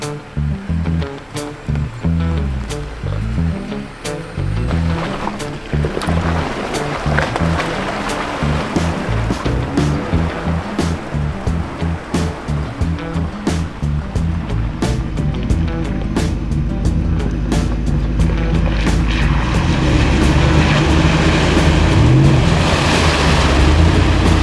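Jeep Gladiator ploughing through a deep backcountry water crossing in Nevada, with surging splashes and churning water over a low engine rumble that grows louder and denser toward the end.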